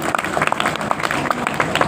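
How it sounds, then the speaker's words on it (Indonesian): An audience applauds at a Nahdlatul Ulama gathering, a dense and steady patter of many hands clapping that fills the space, moderately loud with no voice over it. "Tepuk tangan yang meriah dulu."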